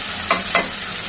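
Chili powder and coriander powder are stirred into a raw banana mash curry in a pan, giving two quick, loud scraping strokes over a soft sizzle.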